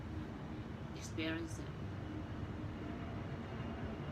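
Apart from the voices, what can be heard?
airplane flying past a high-rise in Miami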